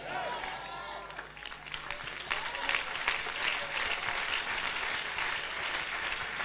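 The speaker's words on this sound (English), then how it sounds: "Are you clapping or you are doing something like clapping?" Church audience clapping during a preacher's sermon, a steady wash of many hands heard fairly faint and distant, with a voice briefly audible near the start.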